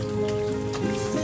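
Rain falls steadily in a continuous soft patter, with a faint low hum running beneath it and no one talking.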